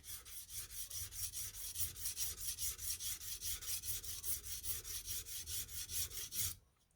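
A blade is rubbed over a coarse 80-150 grit whetstone in quick, even back-and-forth strokes, a gritty rasp repeating about four times a second for several seconds before stopping abruptly.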